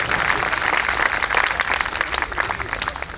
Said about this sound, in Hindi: तालियां हो जानी चाहिए